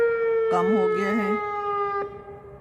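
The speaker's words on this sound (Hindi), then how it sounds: "किस किस्म का सायरन था, क्यों इतना शोर मचा रहा था।" A loud, steady outdoor siren in Bristol, UK, holding a constant wailing tone throughout, while a voice briefly talks over it partway through.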